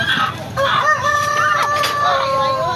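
Several native chickens crowing and clucking close by at a market in Toril, Davao, overlapping calls standing out over a busy background with faint voices.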